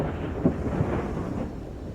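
Thunder rolls in from lightning behind an outdoor spot as rain approaches, a low steady rumble with a brief swell partway through, fairly distant and continuous with no talking.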